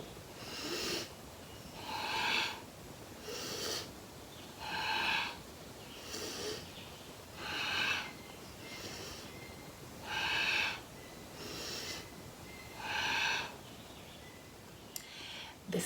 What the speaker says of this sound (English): Inhale up and exhale down.